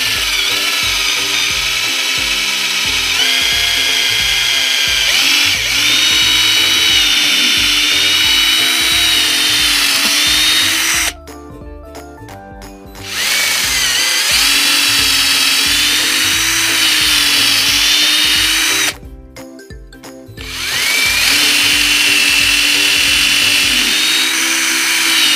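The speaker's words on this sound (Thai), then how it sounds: "เดี๋ยวเจาะลงไปเลย" A power drill bores a square hole for a homemade slingshot, giving a loud, steady high-pitched whine that cuts out twice for brief pauses before resuming.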